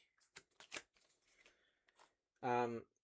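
Playing cards shuffled for a quest card game: soft flicks and riffles, then a short buzzy burst of cards snapping together, quiet and close.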